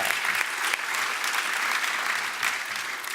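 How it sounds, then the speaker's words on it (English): Sustained applause from a graduation ceremony audience, a dense, steady wash of clapping that fills the whole stretch at even loudness with no voices standing out. "So give yourselves a big round of applause."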